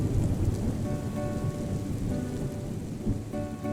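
Steady, dense rain pours with low rumbling thunder rolling underneath in a Hindi-dubbed South Indian film scene, loud and continuous with no one talking.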